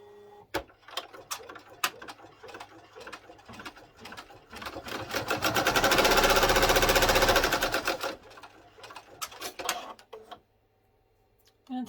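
An embroidery machine stitches a placement line for elastic on a notebook cover, starting with sparse ticking stitches, swelling into a steady loud mechanical hum in the middle, then slowing back to scattered clicks before stopping.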